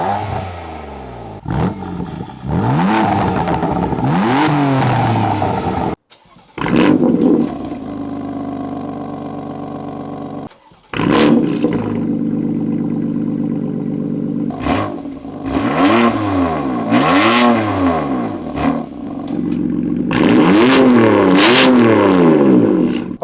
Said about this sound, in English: So I'll put a stock exhaust clip, open and closed